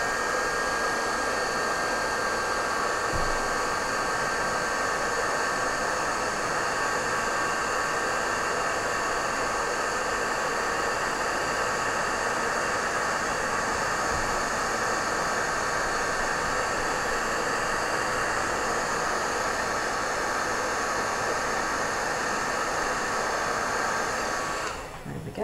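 A heat tool blows a steady, loud stream of hot air for about 25 seconds to heat craft powder, a constant hair-dryer-like whoosh with no talking, cutting off abruptly at the very end.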